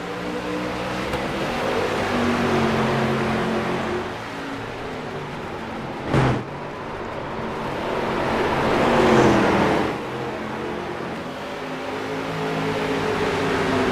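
Street stock race cars at USA Speedway in the iRacing game, engines droning and rising and falling as the pack takes the green flag, with one sharp thump midway and no talking.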